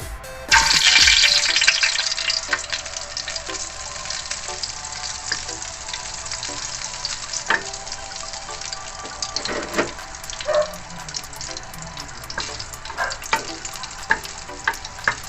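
Butter melts into hot oil in a pan for pork sisig, opening with a loud burst of sizzling that settles into a steady crackle with scattered pops and clinks.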